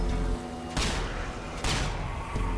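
Gunfire from shooting zombies in Minecraft comes as a steady series of booming shots, roughly four evenly spaced blasts over an ongoing game background.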